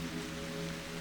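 Rain falls as an even, unbroken hiss of drops, fairly quiet, with a faint low tonal hum beneath it.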